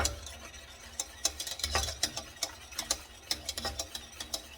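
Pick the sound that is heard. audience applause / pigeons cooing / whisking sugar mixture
whisking sugar mixture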